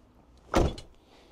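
The rear door of a VW Crafter van, fitted with upgraded struts, shuts with one solid thump and a brief rattling tail.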